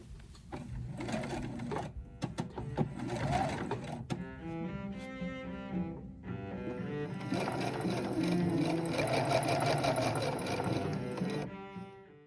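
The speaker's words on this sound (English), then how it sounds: "I'm also stitching along the hem because I'm going to bag out the coat." A sewing machine stitches along the hem of a Style Arc Beatrice pea coat, running in steady mechanical bursts with a rapid rhythmic clatter that builds into a long, continuous run.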